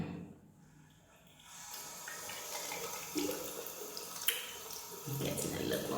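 Lukewarm water running from a tap, a steady close rushing splash that continues throughout with small shifts in flow, with no talking.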